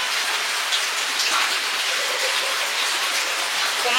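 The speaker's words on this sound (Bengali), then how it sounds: "অনবরত ঝমঝম করে বৃষ্টি পড়েই চলেছে" Heavy rain pouring down steadily during a monsoon afternoon, a loud, dense and unbroken hiss of falling water and drops striking surfaces close by, with no voices.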